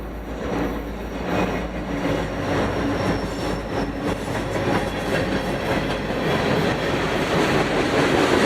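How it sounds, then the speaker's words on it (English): A Utah Railway local freight on Route 515, led by GP40 locomotive 3000 on the Salt Lake subdivision, rolls past close by. It makes a loud, steady rumble with rhythmic clickety-clack from the wheels, and nobody speaks. "a Utah Railway local, this being Route 515 with GP40 3000 leading"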